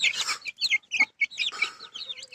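Domestic desi hens in a small poultry farm cluck and chirp in quick, overlapping bursts nearby, a busy flock calling with no human voices.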